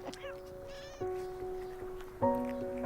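Several drawn-out, tonal meows from a nearby cat come one after another, each wavering in pitch, with faint background noise.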